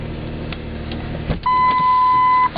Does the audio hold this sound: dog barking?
no